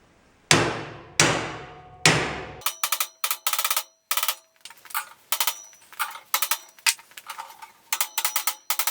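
Metal support bar for a trailer ramp being bent against the trailer's round rod: three loud, ringing metallic hammer-like strikes, then a quick series of sharper clanging taps, close and without talk.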